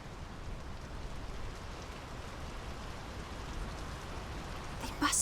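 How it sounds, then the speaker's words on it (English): Steady rain falls in the video game Draugen, a continuous broadband hiss of drops at an even level throughout, with a brief louder patter near the end. "The rain's picking up."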